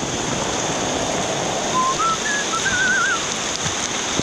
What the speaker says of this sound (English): there's a lot of rain coming down